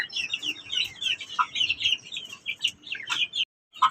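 A flock of hens clucks and squawks in a hen house, dense overlapping calls close by that break off into a brief silence near the end before resuming.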